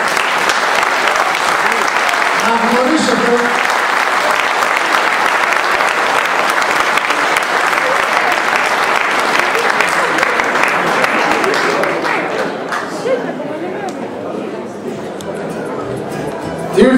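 A crowd applauds steadily at a municipal election campaign speech in Veria, Greece, a dense continuous clatter of many hands that thins slightly near the end, with a voice speaking over it.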